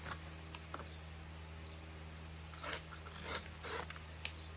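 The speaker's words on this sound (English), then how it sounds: "Okay, so I'll rip that bit off." A strip of paper is torn off a junk journal page in a few quick, faint ripping bursts against a quiet background hum.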